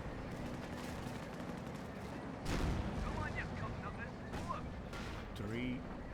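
A Firefly tank gun firing at a Panther in Company of Heroes 2: a heavy cannon boom lands midway, followed by a few lighter blasts and battle noise, with someone talking over the action.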